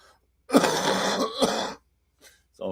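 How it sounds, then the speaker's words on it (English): A woman with a lingering cold coughs and clears her throat in one harsh, rough burst of about a second, then a short pause before a fainter second throat-clearing sound. "So you can tell my cough is not better."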